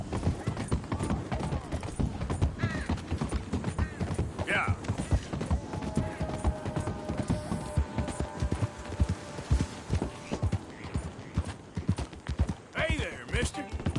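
A horse's hooves clip-clop in a steady walking rhythm close by, with a brief whinny partway through, while several people talk over and around the hoofbeats.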